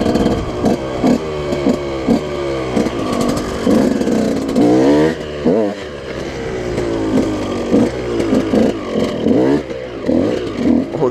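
A supermoto motorcycle ridden in a skatepark, its engine revving up and down loudly and repeatedly with close, rasping bursts and a brief dip in between, with no talking.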